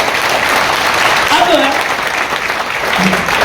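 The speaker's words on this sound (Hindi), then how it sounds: "जैसे यस, ताली बजा सकते हैं" Audience clapping at a network marketing training seminar, a continuous wash of applause with faint voices mixed in.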